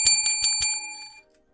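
Bright metallic bell notification chime ringing four quick times in a steady rhythm, loud and close, then fading out alone with no voices.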